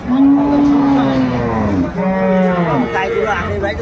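Cows at a village cattle market in Aftabganj, Dinajpur, give two long, loud, close moos in succession, each drawn out and sliding in pitch, with market chatter faintly around them.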